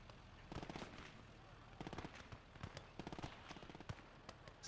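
A machine gun in the World War II strategy game Gates of Hell fires repeated rattling bursts, the rapid shots coming in clusters over a steady battle din.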